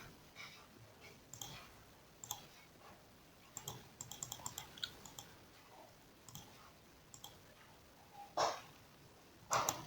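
Faint, scattered clicks of a computer keyboard as a date of birth is typed into an online form, quiet irregular taps with a couple of sharper, louder key presses near the end.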